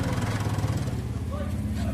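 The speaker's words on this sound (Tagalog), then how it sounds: "Na naka-start nga itong makina." Engine of a Mitsubishi Montero running at idle, a steady low rumble with a fast regular pulse close by, continuous throughout with slight unevenness.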